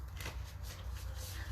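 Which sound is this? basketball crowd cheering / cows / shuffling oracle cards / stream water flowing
shuffling oracle cards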